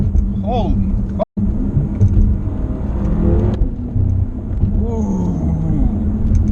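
A BMW F10 M5 fitted with an Akrapovic exhaust accelerating hard, its engine rising in pitch through the gears with a loud rumbling drone and a brief cut at a shift, while people in the car talk over it.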